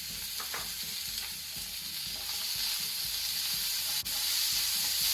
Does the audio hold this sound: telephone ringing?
no